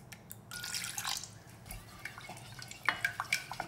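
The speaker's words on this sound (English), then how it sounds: "Add 1/4 cup fish sauce." Fish sauce poured into mustard greens kimchi, a faint liquid trickle with soft drips and small clinks of a bowl or pot, close and quiet.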